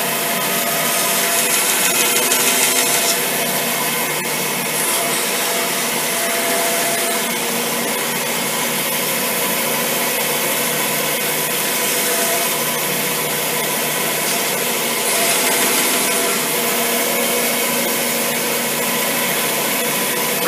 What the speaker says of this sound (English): We're at the bandsaw, I should say. And what we're going to cut out the rest of it.